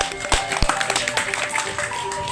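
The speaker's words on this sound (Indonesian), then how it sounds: "Tepuk tangan kok Pak Andi." Scattered claps from an audience at an education event with an English-speaking guest, a few sharp hits amid chatter and talk.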